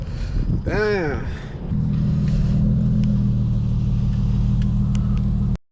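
A car engine idles loudly with a low steady rumble, held revving up before a launch at a night street race, after a brief rising whine at the start.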